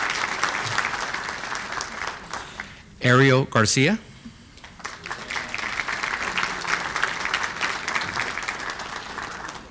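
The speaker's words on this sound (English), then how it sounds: "Yes, a round of applause, please" Steady applause at a school district board of trustees meeting honoring cross-country state qualifiers, continuing throughout while a voice on a loudspeaker briefly announces a name midway.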